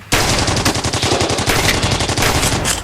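Rapid bursts of toy-soldier machine-gun fire in a stop-motion army men battle, set in the liberation of France, crackle loud and close in steady rattling volleys with no talk over them.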